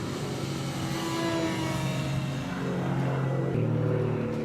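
A Dynam Scout Cessna 182 electric RC park flyer airplane flies overhead, its small motor and propeller giving a steady buzzing drone that shifts slightly in pitch as it passes at moderate distance.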